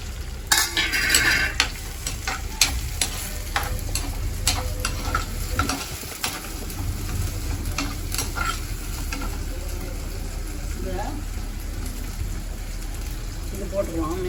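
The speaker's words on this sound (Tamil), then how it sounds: "வெங்காயமும் தக்காளியும் இவ்வளோ சவந்துடுச்சு" Onions and tomatoes sizzle steadily in a pan for a fish curry, with a spoon scraping and stirring at intervals and someone talking over the cooking.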